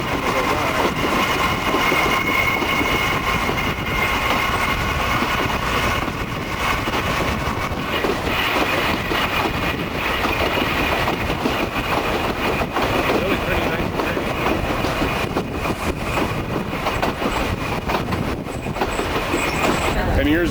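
Train riding along a river in Peru, a loud continuous rumble of wheels and carriage from inside the car with rhythmic clatter throughout.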